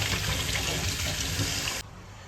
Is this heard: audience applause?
no